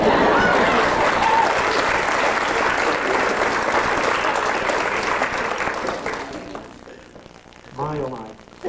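A crowd at a holiday party applauds and cheers for several seconds, dense clapping fading out into scattered claps, after which a voice speaks briefly.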